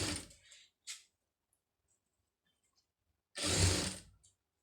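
A tailoring sewing machine stitches two pieces of cloth together in short runs: a rattling burst at the start, a quick blip, near silence, then a louder run of stitching lasting about a second, close to the machine.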